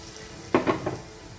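Ghee-roasted ingredients are poured into a pumpkin dish, giving a short burst of sizzling with a few clinks of the pan, three quick hissing pulses close up and fading within half a second.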